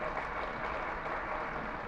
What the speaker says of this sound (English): A hearty round of applause, please, for our chief guest,